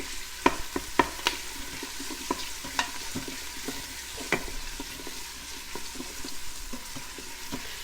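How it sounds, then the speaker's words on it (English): Garlic browns in an Instant Pot while a utensil stirs it steadily: a soft, continuous sizzle with scattered sharper scraping clicks against the pot. No one talks. "brown it for like 10 seconds and just keep stirring it."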